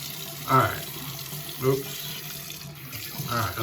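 Hot water runs steadily from a bathroom tap during a straight razor shave, a continuous close hiss with a few louder splashes and clinks as the razor or hands pass under the stream.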